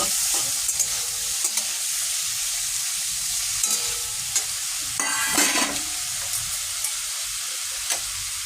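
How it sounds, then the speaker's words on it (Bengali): Shrimp frying lightly in a pan with salt and turmeric, a steady close sizzle and hiss with occasional crackles and brief stirring scrapes. "চিংড়ি মাছটা হালকা করে ভেজে নেব।"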